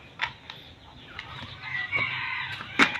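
Backyard chickens clucking and a rooster crowing as the flock waits to be fed, with scattered sharp calls and squawks rising toward the end, fairly close by and with no talk.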